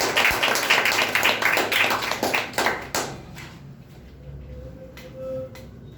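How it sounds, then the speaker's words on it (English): Students break into brisk, dense hand clapping for a classmate's speech, a near burst of many hands that thins out and fades to scattered claps and quiet room noise after about three seconds. "Clap for him."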